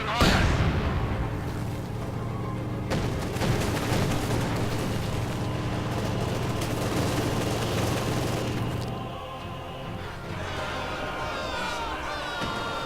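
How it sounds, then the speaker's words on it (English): A mortar half-track fires incendiary rounds in Company of Heroes, with booming launches and explosions over a dense battle din of rumbling vehicles and gunfire. A voice talks intermittently over the action. "a nice incendiary round from the mortar half-track"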